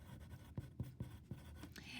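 Pen or marker writing SOHCAHTOA on a board or paper for a trigonometry lesson, a run of short scratchy strokes with small taps, close and fairly quiet, with no voice over it.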